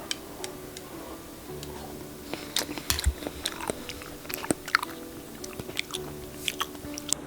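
Close-up chewing of tapioca pearls nicknamed frog eggs, eaten in a mukbang: irregular wet clicks, squishes and bites scattered across the stretch over faint room hum, with no talking.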